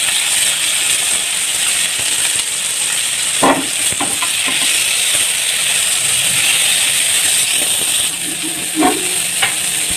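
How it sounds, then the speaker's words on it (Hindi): Half-cooked seekh kebabs fry in a pan with a loud, steady sizzle close up, broken now and then by brief clinks and scrapes as they are turned. "और इसको मैं बस हल्का हल्का फ्राई करूँगी क्योंकि ये ऑलरेडी डन है।"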